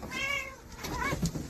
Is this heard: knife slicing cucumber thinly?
no